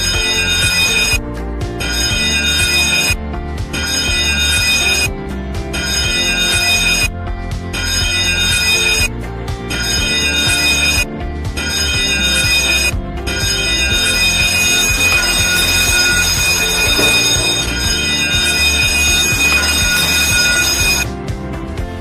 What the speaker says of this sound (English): The general emergency alarm on the ship is recognized by 7 shots ringing of the bell, followed by a long ring